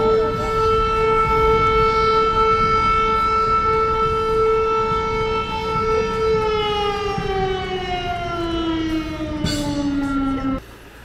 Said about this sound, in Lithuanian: Ir sirena pasisveikina Podylą.